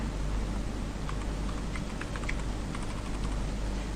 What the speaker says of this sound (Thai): ป้อนรหัสผ่านนะคะ